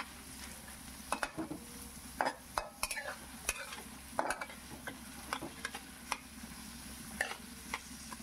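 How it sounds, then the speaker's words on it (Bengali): Chopped onions for chicken do pyaza fry and are stirred in a pan, a steady low sizzle broken by repeated scraping clicks of a spoon at an uneven rhythm, close and fairly quiet. "দেখুন আমি ভালো করে পেঁয়াজটা একটু ভাজা ভাজা করছি।"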